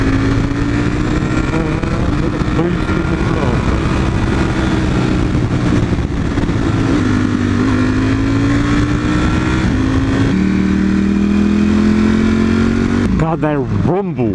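A motorcycle engine revs and rumbles loudly through the whole stretch, its pitch climbing in steps as it accelerates, with a brief roar near the end.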